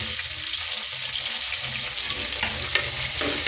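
Tomatoes tipped into a hot frying pan hiss loudly in a dense, steady sizzle that stays close and even over a few seconds, with faint stirring scrapes and no talk.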